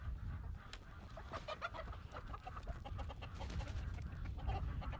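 Silkie and Polish chickens cluck at feeding time on a farm, a steady chorus of overlapping clucks and low chatter from several birds nearby, with no pauses.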